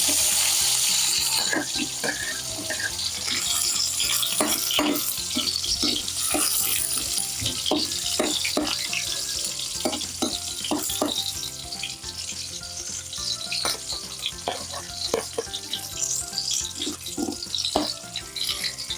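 Sliced onion frying in oil for sinigang sa miso, a steady loud sizzle throughout with frequent sharp clinks and scrapes of a utensil stirring in the pan, no voices.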